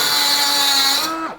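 A Makita 18V compact cutter with an abrasive disc whines loudly at a steady high pitch while cutting, then winds down sharply as the cut ends.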